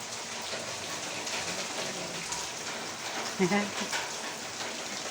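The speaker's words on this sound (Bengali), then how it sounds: "তাই আজকে বৃষ্টি আসলো" Heavy rain pours down in a steady, even hiss that fills the whole stretch, with a brief soft thud partway through and no clear talk on top.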